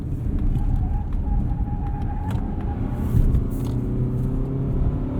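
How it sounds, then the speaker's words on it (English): A 2021 Mazda CX-30 FWD engine roars steadily at high revs while accelerating up an entrance ramp, with continuous road rumble and no one speaking. "Looks like it keeps our revs pretty high."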